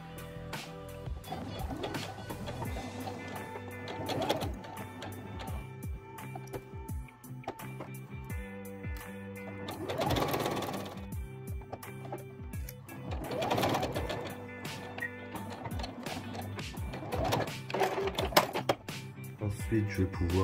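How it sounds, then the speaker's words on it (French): A sewing machine stitches fabric around the edges of a cloth origami butterfly, a 1 cm seam, running in repeated bursts of close rattling stitches with brief pauses between runs, with a voice speaking at times over the machine. "Et je vais pouvoir aller piquer tout autour à 1 cm en laissant une ouverture d'un côté de 3 à 4 cm."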